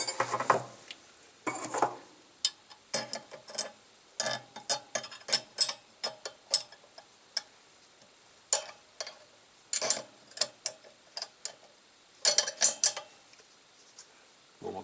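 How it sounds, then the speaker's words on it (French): A wrench clicks and taps against a rocker arm lock nut on a 1955 Panhard Dyna Z1 engine during valve adjustment, sharp close metallic ticks in irregular bursts separated by quiet pauses. "il faut que je desserre un peu avant de bloquer le contre-écrou"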